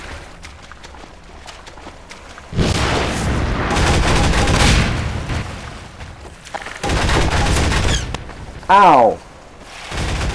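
Gunfire in Half-Life 2 arrives as loud shots and rattling bursts in several clusters, with a player voice yelping in between.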